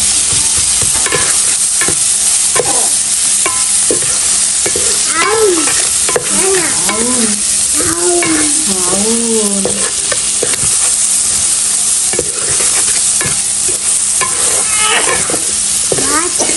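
Shrimp fry in a hot pan with a constant bright sizzle, and a utensil scrapes and stirs through them in repeated strokes, loud and close throughout.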